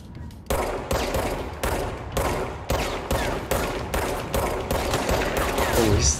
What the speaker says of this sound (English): I'll fight him with a gun.